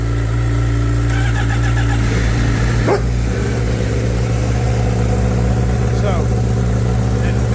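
A Honda Fireblade motorcycle idles with a throaty exhaust, a steady low engine rumble running the whole time beneath a person talking nearby.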